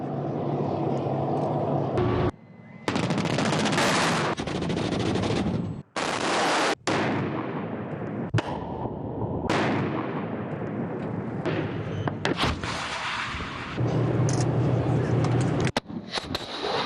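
Heavy gunfire and artillery blasts at a military live-fire exercise, a series of loud booms and bursts separated by short pauses, with speech heard in places.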